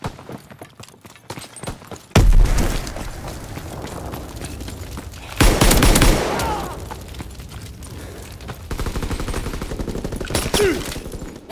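Intense battle in Call of Duty: WWII with a machine pistol, heavy gunfire bursts and loud booms rising and falling amid chaotic combat noise, with separate loud blasts and rapid shots throughout.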